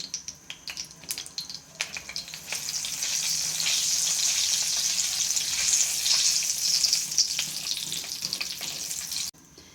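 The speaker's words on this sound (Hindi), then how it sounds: "मैंने तकरीबन 3-4 चम्मच ऑयल डाल लिया था। फ्लेम थोड़ी लो कर लें। 1 चम्मच सूख मिर्ची डाल दें।" Dried red chillies dropped into about three to four spoons of hot oil over a low flame crackle and sizzle steadily, building to a dense, even fry before cutting off near the end; no talking.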